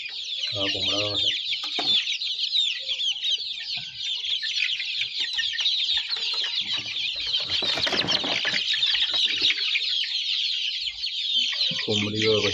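On a country chicken farm with a brooding setup, a dense, continuous chorus of high chick peeping fills the air while a rooster and hens cluck nearby.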